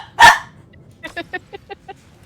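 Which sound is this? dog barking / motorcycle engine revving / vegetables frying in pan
dog barking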